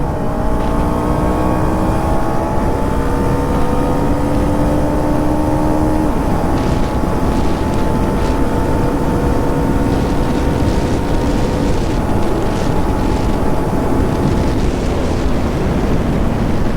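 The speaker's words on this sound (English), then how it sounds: "Drag race between MT and Duke 250. Quick shifter effect." A Yamaha MT-15 (155cc) and a KTM Duke 250 drag racing, the quick-shifter-equipped bikes' engines droning loud and close with steady rising-and-falling revs through gear changes, under heavy wind noise for the whole stretch.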